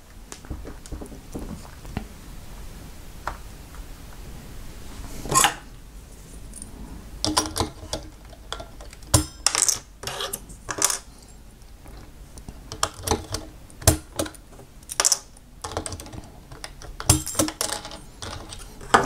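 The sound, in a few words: taking keys apart on a Cherry G84-4100 keyboard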